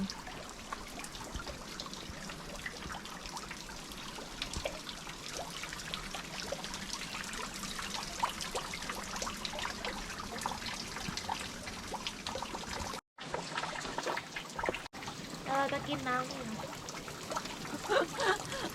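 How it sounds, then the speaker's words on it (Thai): A small waterfall trickles beside a hiking trail on Madeira, a steady close splashing and dribbling of water throughout, broken by a brief gap near the end, with faint talk now and then. "นี่ก็เป็นน้ำตกน้อยๆระหว่างข้างทางเนาะ"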